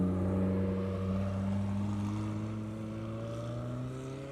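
A McLaren 765LT MSO with a Rift exhaust at a Houston cars and coffee meet holds a steady engine drone with clear harmonic tones, slowly easing in loudness, nearby and alone.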